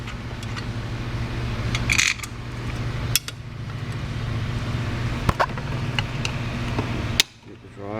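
Metal bolts are set back into a transmission valve body, with a few sharp clinks and small metallic taps standing out against a steady background hum; no one speaks.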